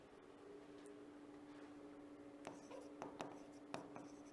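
A pen or chalk writes by hand during a technical lesson on surface plates, faint scratching strokes with a few sharper taps over a steady low hum, no talking heard.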